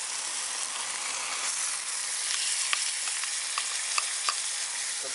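Continuous loud sizzling of soy-based sauce in a hot frying pan, a steady bright hiss with occasional pops and crackles, close up and without talk.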